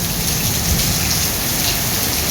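Heavy rain pours down in the UAE, a dense, steady hiss of drops hitting surfaces close by, with no voices.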